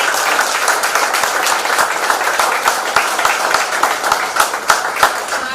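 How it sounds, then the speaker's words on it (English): Loud, close applause from a gathered crowd for a team at an election-night event, dense steady clapping with distinct sharp individual claps punctuating it throughout. "So let's give the team a round of applause."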